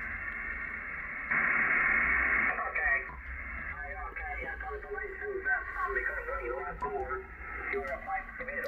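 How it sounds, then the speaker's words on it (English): An Icom IC-756 HF amateur radio transceiver with noise reduction on receives a faint, warbly voice over band-limited static, the hiss briefly swelling early on before the filtered signal comes through more clearly. "Now it's with the noise reduction."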